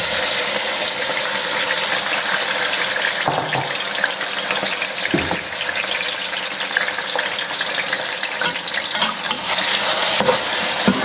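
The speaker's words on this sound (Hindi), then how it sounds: "तो अब इस ऑयल में हम ये चिकन डाल रहे हैं।" Chicken pieces with ginger-garlic paste frying in hot oil for a traditional chicken qorma, a loud steady broadband sizzle that runs without pause, with occasional stirring bumps and no voices.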